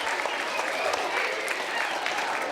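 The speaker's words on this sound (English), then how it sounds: "Well done, give them a round of applause." Dense, continuous applause from a school audience fills the whole stretch, a steady wash of many hands clapping with no voices standing out.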